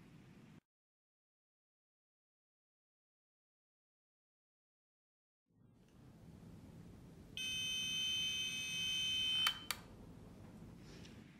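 A Renesas smart medicine box sounds its reminder notification as a steady, loud electronic beeping tone. It follows a near-silent stretch and a low indoor rumble, then cuts off abruptly with a couple of brief clicks.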